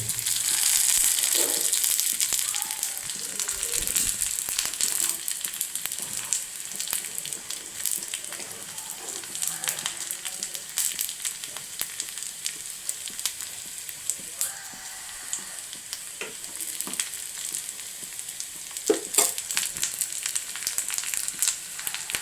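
Dried red chillies sizzling in hot oil for a tempering for mango curry, a steady bright crackling hiss with occasional sharper pops and stirring noises, close and continuous.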